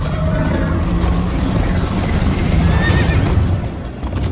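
A horse whinnies loudly over its hoofbeats in Minecraft: Story Mode, the animal neighing near and clear through a dense, steady din of movement.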